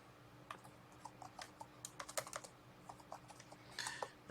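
Quiet keystrokes on a computer keyboard while entering Python code, a run of irregular light clicks in small clusters, close but faint over low background hum, no talking.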